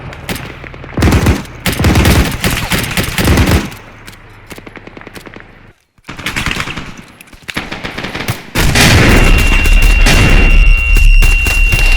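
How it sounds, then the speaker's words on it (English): Loud bursts of automatic gunfire strike a vehicle in the Arma 3 military shooter, heavy rapid rattles and booming impacts in repeated volleys with a brief silent gap before sustained firing resumes. "The vehicle's getting shot at."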